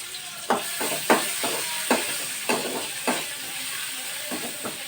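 Chopped large onions fry in oil in a pan with a constant close sizzle, and a utensil stirring them adds a steady rhythm of scraping strokes about twice a second.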